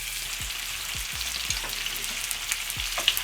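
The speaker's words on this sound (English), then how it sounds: "So we need to brown them on either side." Meatballs searing and browning in a hot frying pan, a steady close sizzle of oil with occasional soft scraping and turning sounds, no talking.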